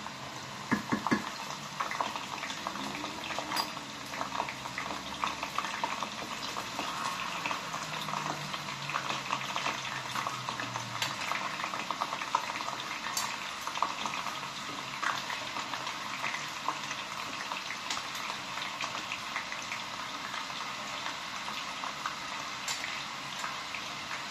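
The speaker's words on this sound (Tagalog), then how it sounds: "Konti na lang po, maluluto na ating french fries." French fries fry in oil in a home kitchen pan, a steady bubbling sizzle that stays even and continuous throughout, close and moderately quiet with occasional faint utensil clicks.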